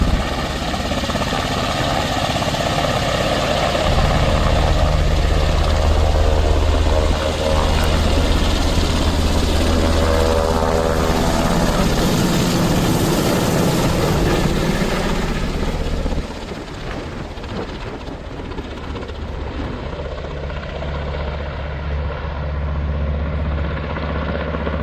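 A helicopter's steady rotor thump and turbine whine dominate throughout, loud and close, with a slight shift as it moves away.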